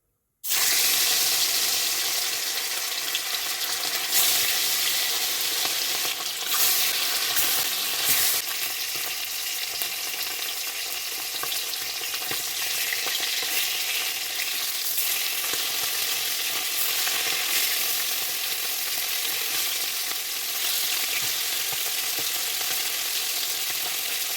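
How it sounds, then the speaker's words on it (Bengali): Rohu fish pieces rubbed with salt and turmeric fry in hot white oil in a pan, giving a loud, continuous sizzle with occasional stirring sounds and no voices. "মাছগুলো আমাদের লাল লাল করে ভাজা হয়ে গেছে,"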